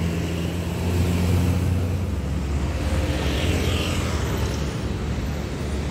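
A Murni Jaya AP122 Carrier bus passes by at a terminal, its broad engine rumble swelling and fading at moderate distance over steady background noise.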